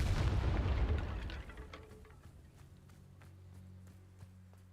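A Confringo fire-blast spell cast in Hogwarts Legacy, a loud explosive burst at the start that decays into rumbling, followed by sharp faint clicks and a low hum.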